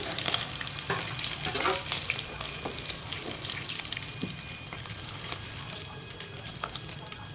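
Potato pieces sizzle in hot oil in a home kitchen while eggs wait to go into a curry, a steady crackling hiss running throughout with occasional soft clinks and stirring scrapes, close and moderately loud.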